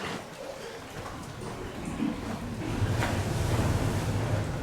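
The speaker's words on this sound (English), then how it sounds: "The waves are coming underneath the rocks and causing this Grotto to happen." Ocean waves surge beneath rocks into a seaside grotto on Christmas Island, Australia, a steady broadband wash that swells louder toward the end, with wind buffeting the microphone.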